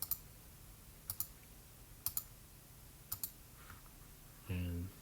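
Paired key clicks tap out at about one-second intervals as chords are entered on a computer keyboard for a recording, quiet and close, followed by a brief synthesized tone at the end.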